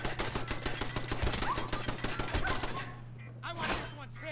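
A turret in a video game firing rapid, evenly spaced shots in a long sustained burst, loud and close, then stopping before a couple of further thuds.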